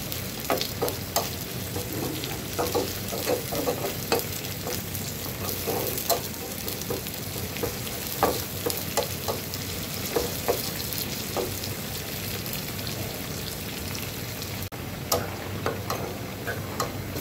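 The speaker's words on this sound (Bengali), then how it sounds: "খুব ভালো করে এটাকে পেঁয়াজটাকে ভেজে নিয়ে বেরেস্তা করে" Chopped onions and a bay leaf frying in a pan, a steady dense sizzle with scattered sharp crackles and pops throughout, close and continuous with no talking.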